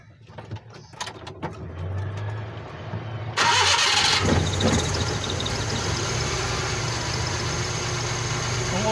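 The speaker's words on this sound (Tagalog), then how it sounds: "Try natin ulit mga boss kung mag-aanda pa yung makina." A Suzuki F6A multicab engine with a hard-starting problem cranks in short bursts, then catches and roars up loudly before settling into a steady, rough idle close by.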